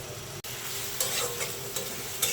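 Chopped onion and green chilies fry in hot oil, a close, steady sizzle broken by a few louder bursts as the pan is stirred.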